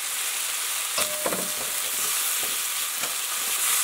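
Wood ear mushroom and cabbage filling for spring rolls stir-frying in a hot wok, a steady sizzle broken by several sharp scraping stirs, close and alone with no talk.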